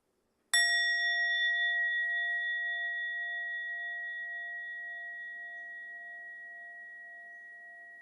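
One struck sound bell rings out with a bright, clear tone, then hangs on and fades slowly over several seconds into silence, with no voices.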